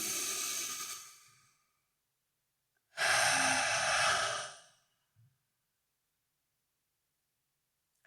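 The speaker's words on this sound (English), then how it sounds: "Take a breath with me." A slow, deep breath: a long inhale, a pause, then an even longer exhale, calm and close, followed by a brief soft sound and near silence.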